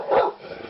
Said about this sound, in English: To bark is when you hear them in the distance go row, row, row, row, row.